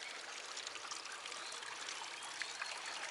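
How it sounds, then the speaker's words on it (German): A small brook running through a stone-walled channel, a steady, close wash of flowing water with no voices. "Hier ein bisschen den Bach, wie auch immer, eingefasst, der da vorne verschwindet."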